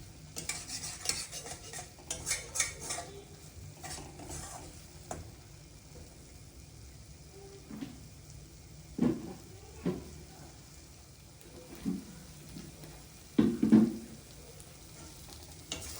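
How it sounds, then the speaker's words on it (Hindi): Paneer masala fries in a pan with a soft background sizzle, broken by scattered scrapes and clinks of a spoon stirring, louder bursts near the end. "तो हमें इसे बस 2 मिनट और मसाला फ्राई करना है।"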